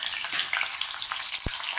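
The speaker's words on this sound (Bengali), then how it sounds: "এবার একে একে পনিরগুলো ভেজে নেব।" Paneer pieces frying in hot oil in a wok, a loud, dense, continuous hiss of bubbling oil heard up close with one soft knock.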